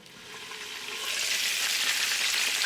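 Chicken pieces fry in a skillet, a steady broadband sizzle that swells louder over the first second and then holds, close and continuous with no talk.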